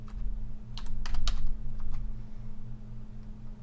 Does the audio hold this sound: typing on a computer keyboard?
yes